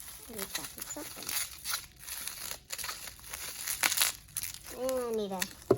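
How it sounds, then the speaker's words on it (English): Plastic bubble wrap is handled and crinkled during a beauty subscription bag unboxing, giving close, irregular crackles and rustles in bursts, with a voice heard briefly near the end. "Next thing is we have bubble wrap."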